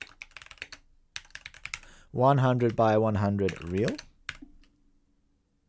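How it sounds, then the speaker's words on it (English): Computer keyboard keys tapped in quick bursts, close and crisp, with a voice talking briefly in the middle between typing runs. "I'm just typing that in the chat."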